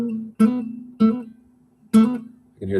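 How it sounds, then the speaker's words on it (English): Guitar played with hammer-ons: four plucked notes in a slow, uneven rhythm, each ringing clearly on its own and fading before the next. "I'm thinking about how there's a hammer on."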